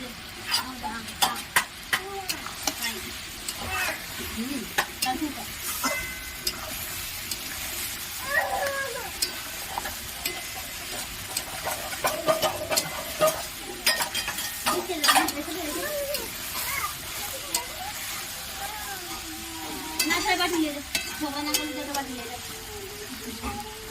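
Chopped onions sizzle in hot oil alongside browned chicken for a dhaba-style chicken kosha, with a continuous close frying hiss broken by frequent scraping stirs and pan clatter.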